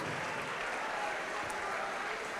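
A church congregation claps steadily throughout, forming a dense, continuous wash of applause with no clear individual claps or voices standing out.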